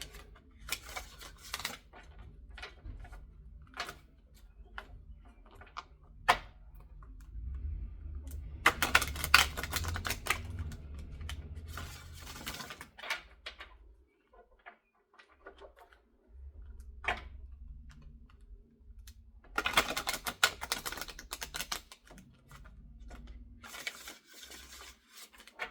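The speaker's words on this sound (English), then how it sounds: "Let's give it a couple of good shuffles here," Tarot cards being shuffled in a reading, heard as bursts of crisp, riffling card flutter and snapping taps that come and go irregularly, with quieter gaps between shuffles.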